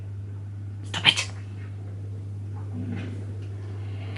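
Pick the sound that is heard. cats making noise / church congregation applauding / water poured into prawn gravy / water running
cats making noise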